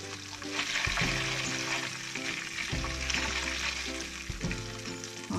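Already-fried onions hit hot oil in a pan for chicken salan, giving a loud, steady sizzle with repeated stirring scrapes and bursts throughout, no talking.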